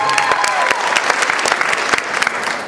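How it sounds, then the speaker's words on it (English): A beauty college special event audience applauds the DJ, dense steady clapping with sharp individual claps standing out, loud and close, a faint tonal hum running under it. "big round of applause for the DJ"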